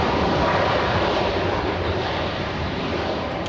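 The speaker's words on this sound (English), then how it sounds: "So we have KLM taxiing, so we're going to have that one leave via the north side." KLM airliner taxiing at LAX airport, a loud steady jet engine roar with a broad rumble that holds constant throughout.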